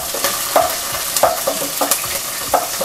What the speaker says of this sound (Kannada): ಆ ಈರುಳ್ಳಿನ ಆ್ಯಡ್ ಮಾಡ್ತಾ ಇದ್ದೀವಿ, ಅದನ್ನು ಸಹ ನಾವು ಸ್ವಲ್ಪ ಹೊತ್ತು ಎಣ್ಣೆಯಲ್ಲಿ ಚೆನ್ನಾಗಿ ಹುರ್ಕೋಬೇಕಾಗುತ್ತೆ